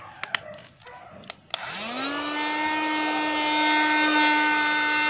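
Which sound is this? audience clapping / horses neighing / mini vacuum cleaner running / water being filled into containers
mini vacuum cleaner running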